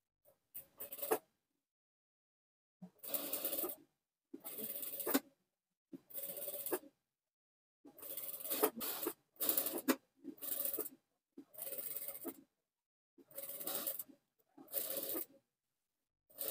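A sewing machine stitches a frock neckband in repeated short runs of whirring, each lasting about a second, separated by silent pauses. The sound is close and moderately quiet, with no talking.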